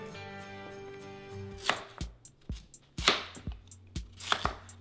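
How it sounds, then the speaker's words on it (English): Vegetables are chopped into smaller pieces on a cutting board, with a series of sharp, close knife thuds in an uneven rhythm, about ten strikes after a brief ringing tone fades. "So I'll start chopping these into smaller pieces, like so"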